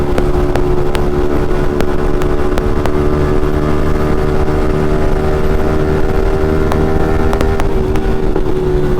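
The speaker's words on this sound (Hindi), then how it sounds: "भाई ये जो बैक फायर फट रहे हैं ना," A Yamaha MT-15 motorcycle with an Akrapovic exhaust runs loud and close in a steady engine drone, with sharp backfire pops scattered through it in uneven bursts.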